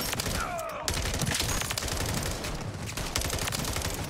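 Rapid gunfire in Call of Duty Modern Warfare Zombies, dense bursts of automatic shots crackling continuously and loudly through the whole stretch, with a brief whistle-like tone early on.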